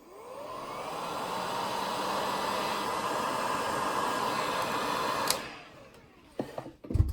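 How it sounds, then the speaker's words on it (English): A heat gun blows a loud, steady hiss for about five seconds while shrinking rubber tubing over a guitar output jack, then cuts off, followed by a few light clunks. "Turn your heat gun on first would be a good idea."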